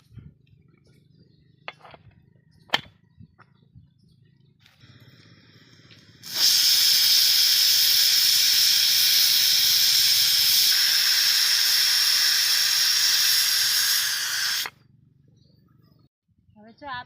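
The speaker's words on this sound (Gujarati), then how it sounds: "હવે આપણે ઢાંકણું બંધ કરી અને બાફા મૂકી દઈશું" Steam hissing loudly and steadily from a covered pot of cooking mung beans, a sustained close jet lasting about eight seconds before cutting off, with soft clicks and handling sounds around it.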